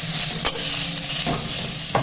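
Steady, loud sizzling of chicken frying in a hot pan, with a couple of short scraping stirs cutting through the hiss.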